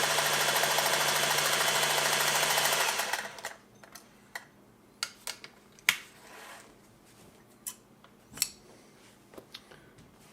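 Singer 403A sewing machine stitching a zigzag, whirring loud and steady for about three seconds before stopping, followed by scattered light clicks and taps nearby.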